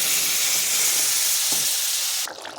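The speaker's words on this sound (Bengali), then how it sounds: "আমার মশলাটা কষানো হয়ে গেছে, এর মধ্যে আমি এখন জল দিয়ে দিচ্ছি।" Steady loud sizzle and hiss of water hitting a pan of fried spice masala for a vegetarian curry, continuous and close, cutting off abruptly near the end into quieter steam.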